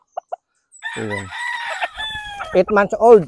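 An eight-month-old brood stag rooster gives a couple of short, sharp clucks and then a long, loud crow with a harmonic, rising-and-falling call. Someone speaks toward the end, partly over the bird.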